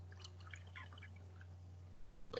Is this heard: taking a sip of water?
yes